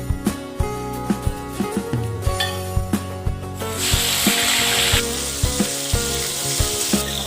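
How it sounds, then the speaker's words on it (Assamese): Fish fries in oil in a wok. A steady sizzle runs under regular rhythmic percussive music and grows louder and brighter midway through. "এতিয়া আমি মাছখিনি অলপ ফ্ৰাই কৰি ল'ম।"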